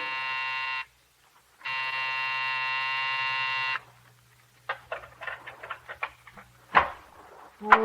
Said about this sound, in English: when you pressed the night buzzer, it growled at you